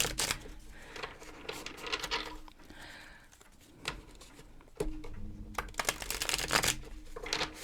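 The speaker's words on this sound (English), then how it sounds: "I'm going to do some oracle cards here" Oracle cards are shuffled by hand in close, crisp bursts of riffling and sliding paper, with short quieter pauses between the rounds of shuffling.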